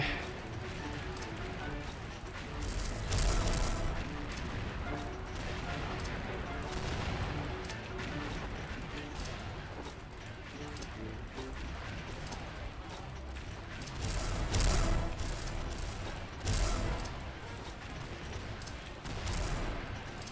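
Rapid gunfire bursts from XSHOT, an online shooting game, on the Dragon Area stage, crackle steadily throughout with louder flurries, heard under continuous talking.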